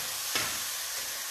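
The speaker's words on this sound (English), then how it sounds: "I wanted to make sure we had a little sizzle there" Venison sautéing in a pan over a turned-down burner, a quiet steady sizzle with a short scraping stir, no talking.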